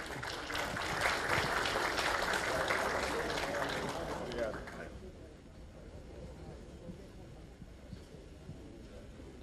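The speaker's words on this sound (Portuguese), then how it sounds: "Palmas para o irmão Baluque" Applause from the audience at a Masonic conference session, a broad dense wash of clapping for the first four and a half seconds, then cutting off and leaving only faint room noise.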